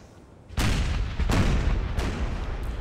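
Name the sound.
howitzer artillery fire in the video game Napoleonic: Total War III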